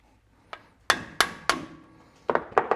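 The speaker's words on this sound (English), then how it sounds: "you whack them on the end with a hammer" A hammer strikes metal on a Toyota LandCruiser Hilux rear axle bearing assembly, several sharp ringing blows with a pause between, then a quicker cluster of lighter taps.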